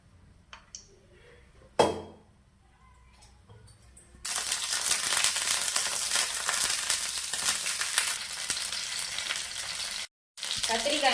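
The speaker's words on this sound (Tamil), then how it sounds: "கத்திரிக்காவை இந்த மாதிரி அரிஞ்சிட்டு எண்ணெய் சூடானதும் எண்ணெயில போட்டுக்கோங்க." Sliced eggplant drops into hot sesame oil: a few light knocks and a clatter come first, then a loud, steady, close sizzle of frying takes over, with a brief cut near the end.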